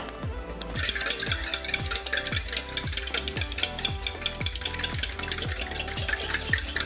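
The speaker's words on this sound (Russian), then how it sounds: "Перебиваем яички." Two eggs beaten for squid-ring batter, a fast, steady rhythm of whisk strokes clicking against the bowl, close and fairly loud, continuing evenly for several seconds without talk.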